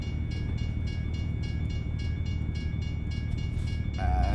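A train rolls past in American Truck Simulator, its steady low rumble of rail cars filling the whole stretch with a rhythmic clatter, loud and close, joined near the end by a brief horn-like tone.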